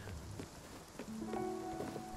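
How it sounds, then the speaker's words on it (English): Steady rain patters during a thunderstorm in the video game Spiritfarer, a continuous soft hiss of drops with faint low rumble and a few quiet tonal game chimes layered over it. "We're in a freaking thunderstorm,"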